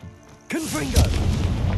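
Confringo explosive spell in Hogwarts Legacy: a sudden loud blast erupts after a quiet lead-in, followed by whooshing, rumbling debris and a second heavy thump.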